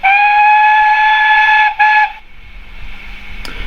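Sound-fitted steam whistle on a Bachmann Pannier model locomotive in London Transport livery, one loud sustained blast with a brief dip near the end, then a faint click, no talk.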